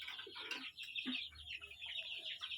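Free-ranging desi hens cluck and chatter at close range while pecking at moringa leaves, with quick bright calls repeating over a soft, steady farmyard background.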